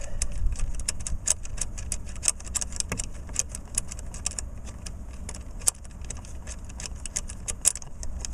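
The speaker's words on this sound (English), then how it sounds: "The ignition switch will just drop right out." A Honda Accord ignition switch is worked loose and pulled out by hand, producing close metallic jingling and clicking taps in quick irregular bursts over a low background hum.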